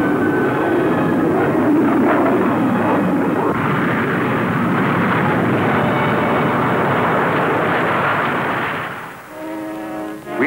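Military fighter jets of tactical air forces roar loudly and continuously overhead, a broad sustained engine rush that fades slightly near the end, with no voices.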